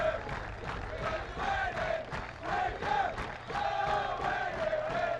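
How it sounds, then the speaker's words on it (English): Rugby match crowd clapping and cheering in a one-minute tribute, a continuous roar of voices with shouts and whoops swelling and easing, moderately distant and sustained. "Crowd continue the 1 minute clapping and cheering for Wayne Diaz"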